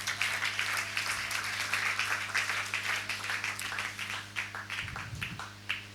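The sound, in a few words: congregation applauding the word of God at a sermon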